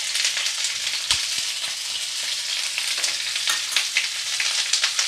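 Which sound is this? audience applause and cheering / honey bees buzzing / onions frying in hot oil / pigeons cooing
onions frying in hot oil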